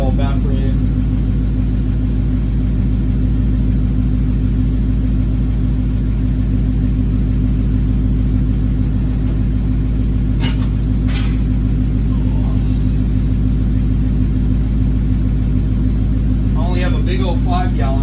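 A 1981 Suzuki GS550 motorcycle engine runs steadily, a loud, close, even throbbing rumble that holds throughout, with a few faint scrapes and knocks around it.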